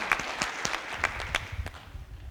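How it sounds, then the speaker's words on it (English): Applause from a panel discussion audience, a few distinct, loud claps in a loose irregular rhythm that thin out over two seconds. "You should give yourselves a round of applause"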